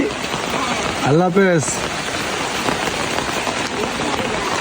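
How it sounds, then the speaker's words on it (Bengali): Steady rain patters all around, a constant hiss of drops, while a person briefly speaks over it. "বৃষ্টি হচ্ছে এই বৃষ্টির মধ্যে আমরা বেরিয়ে গেলাম"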